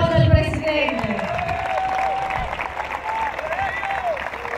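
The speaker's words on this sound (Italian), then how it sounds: "Un grande applauso al Presidente." Audience applausing for the president at the inauguration of synthetic pitches in Langhirano, steady clapping from a crowd with some cheers, sustained and fairly loud, with voices murmuring underneath.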